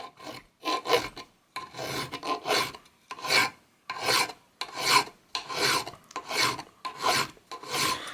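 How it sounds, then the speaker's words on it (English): New bicycle bottom bracket pins, clamped in a vise, being filed by hand in about a dozen rhythmic rasping strokes with short pauses between them, close and clear. "clamp these into a vise. And then using a file, just start to file these down"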